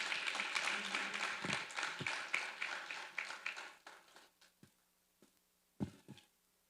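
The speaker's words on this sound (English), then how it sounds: "Another round of applause for our comrades from DMV." Audience applause at a diaspora political convention starts as dense clapping from a crowd, then thins into scattered individual claps that trail off, with a few late claps near the end.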